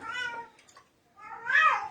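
A cat meows twice, close and fairly loud, with a short drawn-out call, a brief quiet gap, then a longer, stronger meow in an otherwise quiet room.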